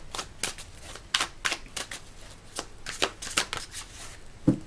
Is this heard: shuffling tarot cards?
yes